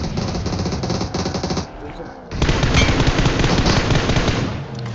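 Automatic gunfire from the mobile shooter BGMI, fired from a vehicle: dense, loud rapid bursts that stop for a brief lull, then resume in a long sustained stream.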